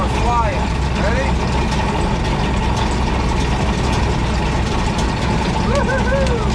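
An Allis Chalmers Gleaner G combine pulling away in first gear, a loud continuous low engine drone with some higher squealing tones over it and voices talking above the noise.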